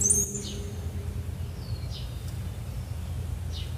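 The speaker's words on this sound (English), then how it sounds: "I try to sit quietly to record the bird sounds" Birds sing outdoors at a distance, a few faint high chirps spaced apart over a steady low background hum, with no voices.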